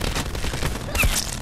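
A sentry gun fires on the Nuketown map in Call of Duty, rattling off rapid bursts with a sharper crack near the end, close and fairly loud.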